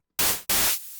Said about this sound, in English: You can adjust the kind of overall sound of the white noise.